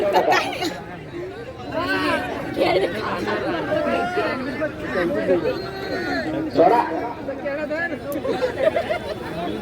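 A crowd gathered at a village bullock-pair ploughing contest chatters continuously, many voices overlapping into a steady, fairly loud babble close by with no single sound standing out.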